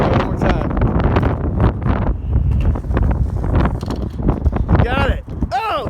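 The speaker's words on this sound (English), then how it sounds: "the freaking wind's blowing like 20 miles an hour" Strong wind at an outdoor skate park on a cold day, gusting around 20 mph, roars as steady broadband buffeting against the microphone throughout, with voices talking over it and brief skateboard rolling sounds near the end.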